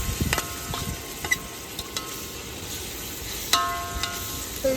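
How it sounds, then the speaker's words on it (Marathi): Mutton fries in a pan with onion and tomato, giving a steady close sizzle with a few sharp clinks and scrapes scattered through it. "कांदा टमाटा बरोबरच डायरेक्ट मटण भाजायला टाकलाय"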